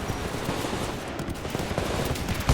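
Gunfire in Titanfall 2, rapid automatic shots crackling steadily at moderate loudness, with a sharper punchy hit near the end.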